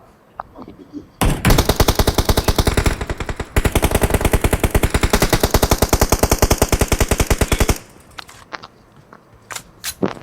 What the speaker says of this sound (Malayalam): നമ്മള് നാലാളുണ്ടല്ലോ നാലാള് വെടിവെക്കണ്